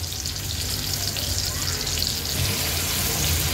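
Lepa fish fry in a hot pan over a high gas flame, Agri-Koli style, giving a steady, dense, close sizzle that holds even and unbroken with no talking.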